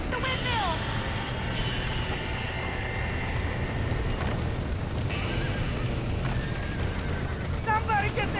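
Horses trapped in a burning barn in the video game Red Dead Redemption whinny twice, once at the start and again near the end, over dense roaring fire noise, with people talking throughout.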